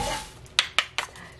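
Toasted seaweed flakes stirred in a pan with the heat off, a few sharp utensil clacks against the pan's metal spaced about a fifth of a second apart over light scraping, close and clear with no talking.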